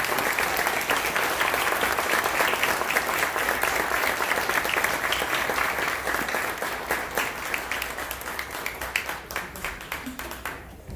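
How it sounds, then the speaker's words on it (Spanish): A standing audience at a political event in Chicago bursts into loud, sustained applause, a thick wall of clapping that carries on for several seconds before thinning out at the very end. "Les pido por favor que se pongan de pie y le demos un gran aplauso a una mujer que hace grandes cosas por México."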